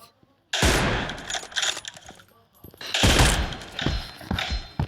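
Shooter video game gunfire rings out in two loud bursts of rapid automatic shots, separated by a short quiet gap, with a few trailing single shots.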